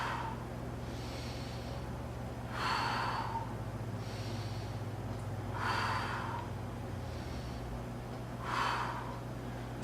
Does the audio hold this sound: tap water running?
no